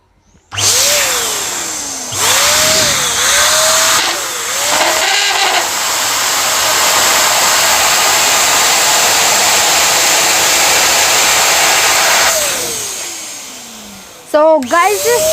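An electric pump whirs loudly and steadily, inflating a transparent bladder balloon, with rising squeaky rubber stretching tones at the start and a sharp rubbery squeal near the end; a voice speaks briefly early on.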